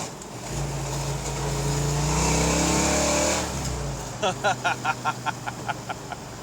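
A 1963 Ford Galaxie 500's engine revs up loudly while downshifting into second and then falls away, followed by a quick series of sharp rhythmic pops or clicks as it settles.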